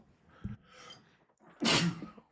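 A single sharp human sneeze bursts out close and loud after a quiet stretch of soft breathing and faint background noise.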